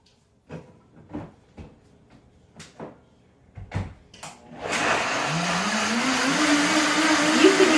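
Several short clunks and knocks, then a Vitamix blender motor roars up loudly blending a green smoothie and keeps whirring steadily, its pitch rising as it spins.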